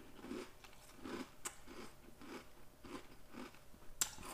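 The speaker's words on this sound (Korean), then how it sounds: "살짝 씹고." Crunchy Oreo O's cereal with milk is chewed close to the mic, giving a steady rhythm of soft wet crunches about twice a second, with one sharper crack near the end.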